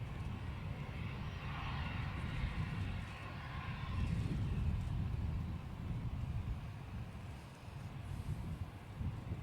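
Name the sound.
aircraft turning at Manchester Airport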